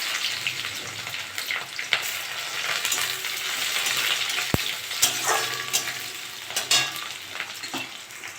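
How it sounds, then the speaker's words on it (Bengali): Onion frying in hot mustard oil in a kadai with panch phoron and dried red chilli, a steady crackling sizzle with occasional sharp clinks of a spatula stirring against the pan. "পেঁয়াজটা একটু লাল লাল করে ভেজে নিয়েছি"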